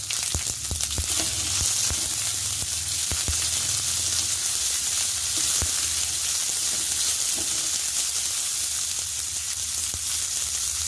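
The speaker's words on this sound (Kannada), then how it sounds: "ಸ್ವಲ್ಪ ಬಿಳಿ ಎಳ್ಳು ಇಟ್ಕೊಂಡಿದ್ದಲ್ಲ ಅದನ್ನು ಹುರ್ಕೊತಿದ್ದೇನೆ. ಸ್ವಲ್ಪ ಈರುಳ್ಳಿ ಹಾಕ್ಕೊತೀನಿ ಅದಕ್ಕೆ." White sesame seeds roasting with onion in hot oil, a dense, loud, steady sizzle and hiss with a few crisp pops and stirring clicks early on, close up and without voices.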